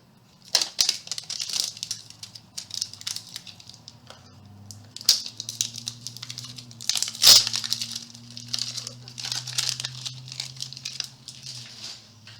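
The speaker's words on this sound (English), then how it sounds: "So I'll go ahead and open up the duct tape." A roll of duct tape is opened and pulled by hand, with crinkling, rustling and sharp ripping bursts scattered irregularly over a low background hum, close and fairly quiet.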